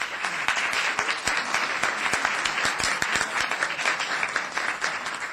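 An audience at a town council meeting applauds steadily, a dense patter of many hands clapping at once, filling the room and holding at an even level throughout.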